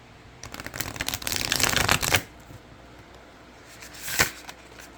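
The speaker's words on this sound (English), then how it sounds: "you'll see how easy these shuffle. They shuffle so well." A riffle shuffle of a tarot deck, a dense flutter of snapping card edges for about two seconds, then quiet and a brief second riffle burst, close up.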